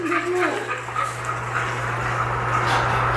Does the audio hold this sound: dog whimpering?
yes